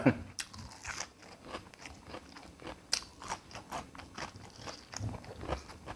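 Close, repeated crunchy chewing and biting of rice eaten with fermented fish, boiled bamboo shoots and greens, in irregular bursts with a few brief vocal sounds between bites.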